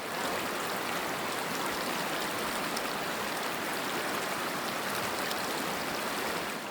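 Creek water on the North Yuba River rushes and babbles in a steady, broadband wash, heard up close and unbroken with no voices.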